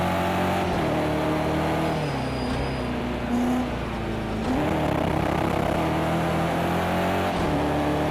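A BMW M6 GT3 race car engine in Project Cars 2 at Brands Hatch drones loudly and steadily, its pitch rising and dipping with throttle and gear changes, alone and continuous throughout.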